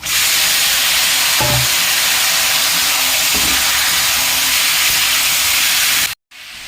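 Chicken meat frying in a pan with onions, spices, turmeric and salt, giving a loud, steady close sizzle with a couple of stirring scrapes and a brief cut near the end.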